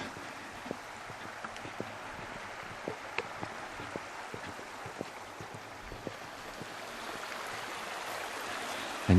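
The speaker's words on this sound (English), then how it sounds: "Yes, it's a river." A river flowing outdoors in Scotland, a steady broad rush of water with small splashes and bubbling close by, continuous throughout with a slight swell at the end.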